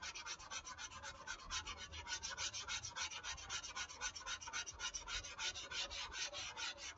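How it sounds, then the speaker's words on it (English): Light hand sanding of a foam repair made with Gorilla Glue, a soft, rapid, even rasping of strokes repeated steadily and up close with no voices. "I'm just doing a very, very light touch here. We're not sanding hard."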